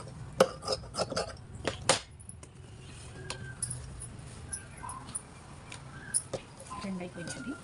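Scissors snip through blouse cloth in a run of sharp, irregular cuts, close and fairly quiet over a low room hum, with a few isolated clicks and gaps between strokes.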